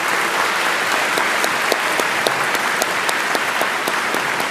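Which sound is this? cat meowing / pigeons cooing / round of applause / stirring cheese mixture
round of applause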